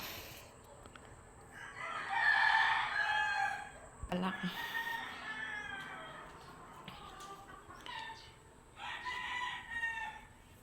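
Roosters crow loudly nearby around a home, with long cock-a-doodle-doo calls separated by quieter gaps of clucking and faint bird chirps.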